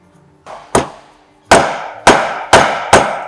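A socket is hammered to drive a motorcycle wheel bearing into its seat: six sharp metallic blows, the first soft, then five loud, evenly spaced strikes ringing out up close.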